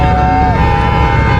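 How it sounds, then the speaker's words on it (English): Car horns honking at a video game car meet, a loud sustained blaring horn tone with a shifting pitch over rumbling engine noise. "They playing the honking game now."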